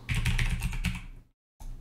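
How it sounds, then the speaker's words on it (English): Loud, rapid clacking of a computer keyboard being typed on up close, a dense run of keystrokes that stops briefly and then resumes. "Man, that keyboard is loud,"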